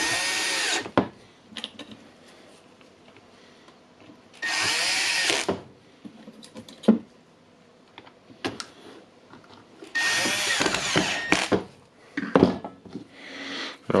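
A Milwaukee impact wrench with a fault that makes it run without working whirs in three loud bursts of about a second or two each, separated by quieter clicks and handling knocks.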